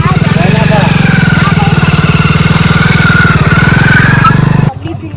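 A motorcycle engine runs close and loud with a steady throbbing rhythm for about five seconds, then cuts away abruptly.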